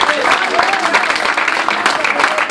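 A church congregation applauds with steady, dense clapping that fills the room, loud and continuous throughout, with voices mixed in.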